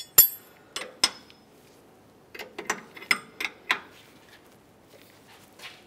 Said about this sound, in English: we'll continue by tightening the jam nut with our 21mm wrench